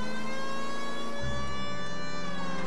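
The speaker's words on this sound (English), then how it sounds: "The sirens will make me feel better." A steady police siren tone in the video game L.A. Noire holding constant, accompanied by a low engine rumble that picks up partway through.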